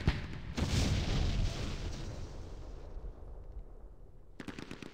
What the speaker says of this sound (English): We're gonna attack this area with lots of artillery.